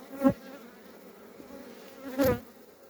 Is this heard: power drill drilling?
no